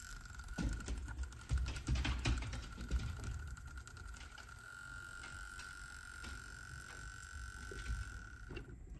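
A Sony TC-K700ES cassette deck's rebuilt tape transport runs in reverse, giving close mechanical clicks and ratcheting at first, then settling into a steady motor whine with faint intermittent ticks and no talk.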